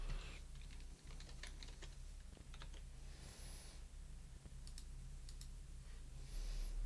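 Computer keyboard typing while a dimension value is entered in SolidWorks CAD software, a quick run of light clicks across the clip at steady close range, with no talking.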